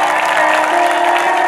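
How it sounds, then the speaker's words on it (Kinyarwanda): Applause from a church congregation gathered with guests fills the clip as a steady, dense clatter of many hands clapping, loud and continuous for the whole stretch with no voices standing out. "Reka dukomere Imana amashyi menshi."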